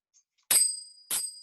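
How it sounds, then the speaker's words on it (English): Two bright metallic strikes of finger cymbals, each ringing briefly with a shimmering high tone, struck about half a second apart, close and clear against silence. "finger cymbals."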